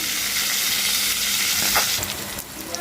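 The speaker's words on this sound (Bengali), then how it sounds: "মাছটা ভাজা হয়ে গেছে মাছের সঙ্গে আলুটাও একটু তেলের উপরে দিয়ে লাল লাল করে ভেজে নেব" Pangas fish fries in hot oil, giving a continuous close sizzle and crackle. The sound eases slightly near the end, and no one speaks.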